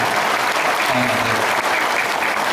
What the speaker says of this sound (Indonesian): Kalau tepuk tangan jangan sendirian dong semuanya ya.